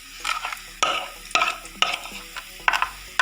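Semolina stirred and roasted in a pan over medium heat for halwa, with a spoon scraping in repeated strokes, sharp clinks against the pan and a light dry sizzle, close and alone.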